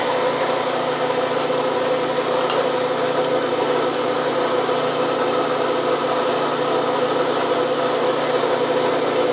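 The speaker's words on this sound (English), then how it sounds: "And now the three-quarter reamer." A three-quarter reamer turns slowly on a lathe, taking a light cut of about 1/64 inch; the machine gives a steady, continuous mechanical hum and whir, moderately loud and unbroken throughout, with no talking.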